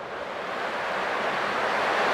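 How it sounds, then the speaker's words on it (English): Ocean waves surge in a steady, rushing wash of surf in the game Honkai: Star Rail, sounding close and full, with no voices. "I can still clearly hear the sound of the waves."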